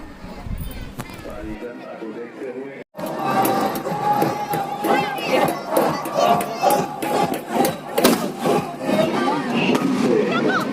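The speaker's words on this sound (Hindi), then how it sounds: "देखिए रामलीला मैदान कितना खचाखच भरा हुआ है, बहुत ही रश है, बहुत भीड़ भाड़ है" A dense, loud crowd fills Ramlila Maidan during a Ramlila event, with continuous chatter, shouts and cheering surging throughout, and voices heard up close.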